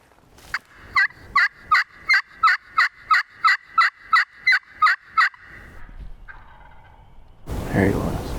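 A wild turkey gobbles in a rapid series of about a dozen evenly spaced, loud rattling calls outdoors, then falls quiet before a burst of rustling noise at the end.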